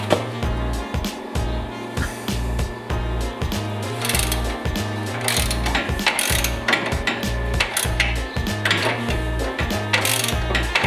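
A socket ratchet clicks away on a Mazda MX-5 coilover, with rapid, repeated loud ratcheting bursts in uneven runs over a steady low mechanical hum, all close up.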